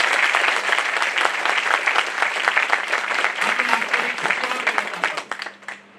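Newly enrolled lawyers at a Bar Council of Delhi enrolment meeting applauding, loud dense clapping that gradually thins and fades toward the end, with a voice faintly underneath.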